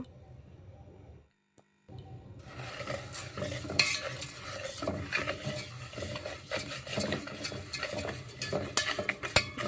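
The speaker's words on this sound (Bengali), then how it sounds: "ভালো করে ফেটিয়ে নিতে হবে চিনিটা যাতে ডিমের মিশ্রণের সঙ্গে মিশে যায়" Sugar being beaten into an egg mixture for chocolate cake, starting after a brief silence as continuous scraping and clinking of a utensil against a bowl, close and busy, with no speech.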